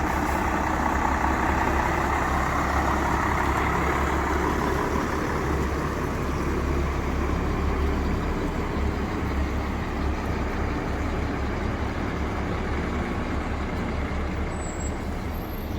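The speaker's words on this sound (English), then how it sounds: "Best bit of the day is to wait at the end when it's all the vehicles are moving" Several vehicles move off together with engines running, a dense, steady roar of motors and rumble that stays loud and continuous throughout with no pauses.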